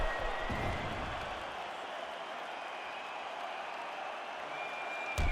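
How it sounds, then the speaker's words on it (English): A crowd in the UFC 5 fighting video game applauds and cheers after a round, a steady wash of arena noise held at an even level throughout, with no voices over it. "So the crowd voicing its appreciation after that round."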